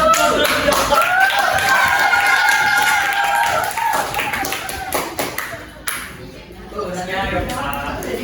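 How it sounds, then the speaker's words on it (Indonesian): A school class in Indonesia claps briefly for a student, a short burst of scattered hand claps that fades, with a teacher's voice and classroom chatter over and after it. "Oke, kita kasih tepuk tangan."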